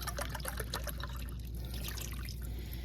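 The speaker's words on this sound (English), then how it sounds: "I'm going to add 3 cups of water." Three cups of water pour steadily into a pot for canning mixed berries, a close continuous splashing stream with faint trickling texture.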